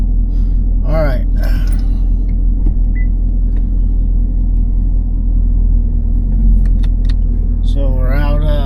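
A 2016 Chevrolet Camaro SS with a six-speed manual, being driven after a cam position sensor repair, gives a loud steady engine and road rumble from inside the cabin while someone talks over it.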